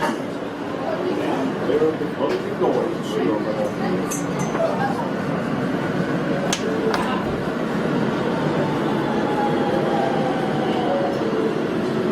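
Brooklyn-bound subway train rumbling along with rattling and screeching squeals, a continuous noisy roar heard from inside the carriage, voices faint underneath.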